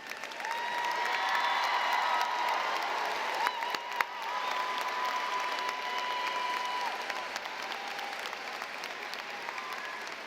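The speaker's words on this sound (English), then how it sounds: "please rise for a round of applause?" Sustained audience applause fills a college graduation ceremony hall, a steady wash of clapping from a large crowd lasting about ten seconds, with faint voices mixed in.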